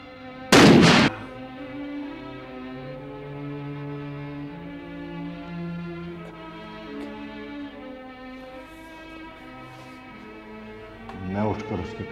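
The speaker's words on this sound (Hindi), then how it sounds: "तेज धमाका हुआ।" A single sharp, loud gunshot bursts out near the start, then gives way to a soft sustained musical drone with a faint rumble near the end.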